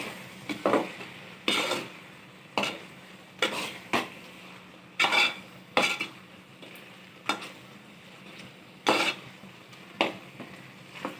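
A spoon scrapes and stirs chicken curry with masala powder in a pot, bursts of clinking and scraping repeating every second or so over a faint sizzle, close and fairly quiet.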